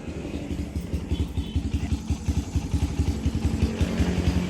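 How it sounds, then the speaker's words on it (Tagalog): A Kawasaki Barako 175 motorcycle idles to warm up its engine after a ride, a close, steady chugging pulse that grows slightly louder toward the end. "Winawarm ko muna yung makina bago ko patayin pag galing sa biyahe."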